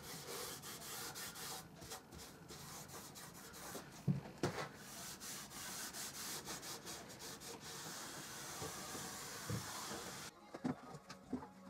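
Boiled linseed oil being rubbed into a wooden coat and shoe rack by hand, a steady soft scrubbing friction that continues throughout at a moderate level with a few brief knocks.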